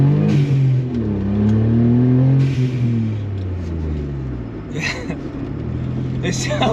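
A Suzuki Alto Works idling with a surging engine, its low hum rising and falling in pitch over several seconds, heard up close with someone talking over it.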